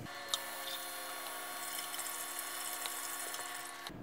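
Water pours steadily into a container being prepared for an acid etchant, a constant close trickle with faint drips and clinks.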